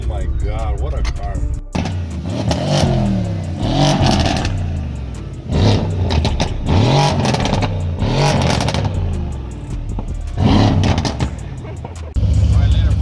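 Mercedes W205 C63S AMG engine revving hard in repeated loud surges while drifting, rising and falling bursts close by with brief pauses, a voice talking over it.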